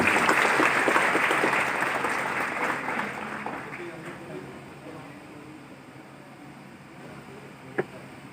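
Audience at a training-institute program in Ludhiana applauds participants, a dense burst of clapping strongest at the start and gradually fading under an announcer's voice, with a single sharp knock near the end.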